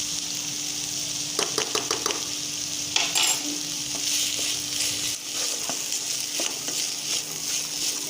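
Chopped capsicum, green chilli and beans sizzle in a pan while a spoon stirs them, giving bursts of scraping and clinking over a continuous frying hiss.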